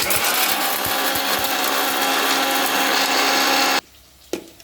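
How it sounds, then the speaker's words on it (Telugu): A mixie jar grinds roasted peanuts with coriander powder, garam masala and other spices, a loud, steady rattling whir with a few knocks that stops suddenly, then a brief clunk. "అన్నీ ఈ విధంగా అయితే మిక్సీ జార్లో వేసుకొని పౌడర్ చేసుకోవాలి."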